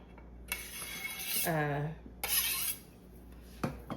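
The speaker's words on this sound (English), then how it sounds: "The easiest way to get your onion off the cutting board is with a bench scraper" A metal bench scraper scoops chopped onion off a cutting board, giving a few close scraping and clinking strokes of board and metal with a short ringing note in the middle.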